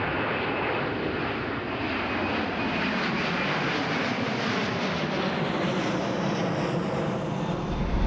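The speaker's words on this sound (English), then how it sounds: "we're already being welcomed by a beautiful KLM A330 300" A KLM Airbus A330-300 jet passes at Amsterdam Schiphol, its engines a loud, steady broadband roar that holds strong and close for the full stretch with no talk over it.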